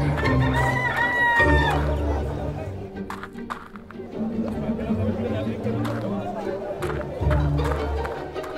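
Chickens cluck and a rooster crows in a Fable: The Lost Chapters village, the bird calls rising above a busy mix of game music, ambient noise and a spoken voice line.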